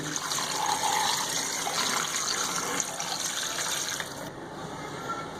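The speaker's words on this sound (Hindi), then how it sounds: "अब हम शामिल करेंगे तकरीबन 1 लीटर पानी।" Water gushes steadily into a pressure cooker, about a litre for beef paya, a continuous full pour that eases slightly near the end.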